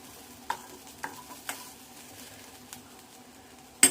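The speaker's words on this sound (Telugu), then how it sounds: "కొంచెం స్విమ్లోనే పెట్టి వేయించుకోవాలి, ఎందుకంటే మళ్ళీ ఇవి పేలుతాయి" Corn kernels frying on a low flame for corn chaat, with a faint, quiet sizzle and a few sharp, evenly spaced ticks and pops, then one louder clack at the very end.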